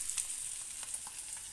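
Fish frying in a pan in a home kitchen at night: a short burst of close, crackling oil sizzle with faint pops, no talk.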